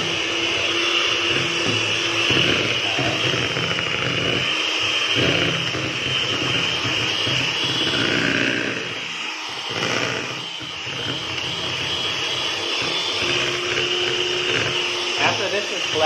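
An electric mixer whirs steadily through buttery cinnamon sugar sandies cookie dough, a continuous motor drone that dips briefly midway as someone talks over it.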